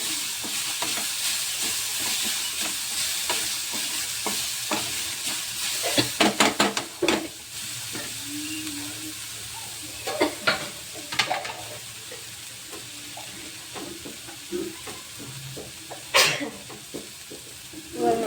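Green chillies frying with ground masala in a pan for samosa filling: a steady, close sizzle runs throughout, punctuated by sharp clinks and scrapes of stirring.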